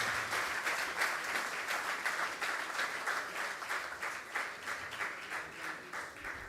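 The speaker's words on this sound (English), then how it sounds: "As we just keep that applause going, ladies and gentlemen, let's keep it on" Distant but steady applause from a ceremony audience for the T+1 settlement cycle transition, with many hands clapping in an even, sustained patter and some rhythmic surges.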